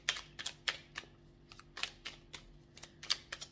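Tarot cards are shuffled and drawn, giving a quick series of sharp, close card snaps and taps in an irregular rhythm against a quiet room, with no talking.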